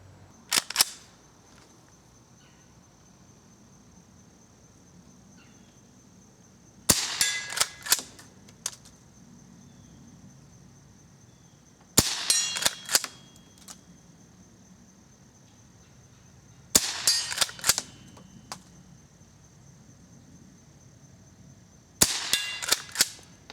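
Five sharp rifle shots from a Remington Model 12, each a loud crack with a short echoing tail, spaced about five seconds apart with quiet outdoor background between them.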